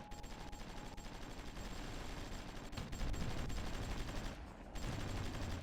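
Sustained gunfire aimed at troops in a war strategy game, a continuous rattling stream of shots and battle noise at steady loudness throughout, without any voices.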